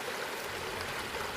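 Scalding mountain water poured over ginger and cinnamon bark, a steady close splashing trickle running throughout, with no voices.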